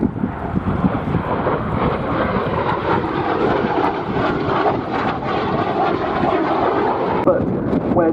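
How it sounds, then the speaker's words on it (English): A Sabre jet fighter roars past at the Duxford airshow, a loud, sustained, broadband jet rush that holds steady for several seconds, with a commentator's voice mixed in. "And in comes the Sabre."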